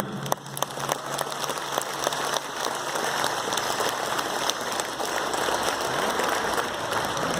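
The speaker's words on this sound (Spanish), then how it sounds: "¿Se vale aplaudir?" Audience applause at a celebration of the birth anniversary of 8 Deer Jaguar Claw, a steady dense patter of many hands clapping with a few sharper claps, sustained throughout at moderate loudness.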